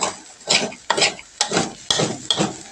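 Chicken fried rice with egg, kale, tomato sauce and roasted chili paste being stir-fried in a pan: about six firm spatula strokes at roughly half-second intervals, close up, over a soft sizzle, with no talking.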